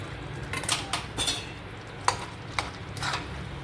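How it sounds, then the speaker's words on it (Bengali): Soft cottage cheese being stirred into a capsicum curry in a pan, spoon clinks and scrapes against the metal in an uneven rhythm with a faint sizzle beneath, close and moderately quiet. "ছানাটা দিয়ে ভালো মতো মিলিয়ে নিলাম"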